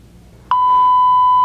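The OCO Labs SuperC monitor app sounds its pressure alarm when the reading falls too low: a sharp onset, then a steady, loud electronic beep tone held close and alone.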